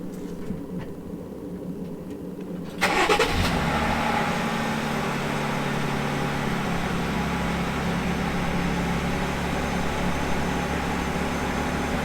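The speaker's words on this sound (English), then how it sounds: "Start the truck, use your blinkers." A Jeep Gladiator truck engine turns over and catches, its steady low rumble settling into a continuous idle that holds loud and close to the end, with no talking.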